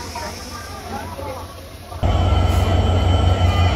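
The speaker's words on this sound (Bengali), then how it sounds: "আমাদের এই লোকোমোটিভ চলে যাচ্ছে" A diesel locomotive pulls away after an engine change at Ishwardi Junction, Bangladesh. A steady rail rumble with a high whine suddenly grows louder and fuller halfway through, close by, with voices in the background.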